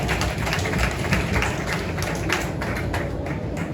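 An outdoor crowd at a Bataillon Arcahaie anniversary celebration claps for a band, dense and steady applause with a few scattered taps, filling the scene at a constant level.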